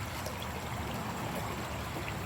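Fast-moving stream water rushes steadily nearby as a person crosses on rocks, a constant broadband wash with no voices.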